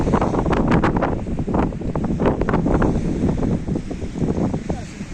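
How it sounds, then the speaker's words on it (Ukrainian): Strong wind buffets the microphone in loud, continuous gusts on the coast at Bouctouche, New Brunswick, Canada, with a faint roar of surf underneath. "Гарна погода, але дуже вітер."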